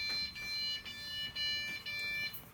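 A revived home server at startup gives steady electronic beeping, a sharp tone that sounds through almost the whole clip with a short break near the middle. It is close and clear over a light background hiss.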